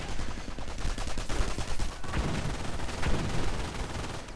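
A mortar barrage in a WWII strategy video game produces a dense, loud, continuous rumble of overlapping explosions and rapid gunfire that stays heavy throughout without a break.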